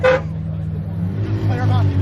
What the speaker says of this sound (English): Hey, I'm gonna need you to stop honking at me, my guy.